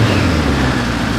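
A 1973 Kawasaki Z1 motorcycle engine with a freshly rebuilt cylinder head idles in a steady, even drone with a low rumble, close and continuous.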